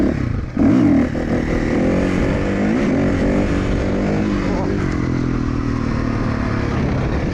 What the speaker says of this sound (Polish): Zaczynamy z dwójki, strzelam ze sprzęgła.